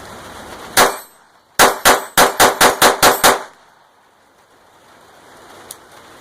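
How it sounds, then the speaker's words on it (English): A Ruger SR22 pistol fires one sharp shot, then after a pause a rapid string of seven close, loud shots at an even fast rhythm, followed by faint ringing quiet. "you're talking 5 to 6 shots per second if you're really trying to fire fast"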